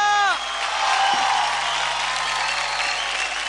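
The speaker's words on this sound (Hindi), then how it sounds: "एक बार फिर से जोरदार तालियां" A TV dance show audience gives loud, sustained applause with whoops and cheers after a children's group dance, a dense, steady roar of clapping that keeps going throughout.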